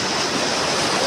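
Stream water rushing steadily over rocks at a mountain creek near a waterfall, a dense continuous broadband roar with no pauses, close and fairly loud.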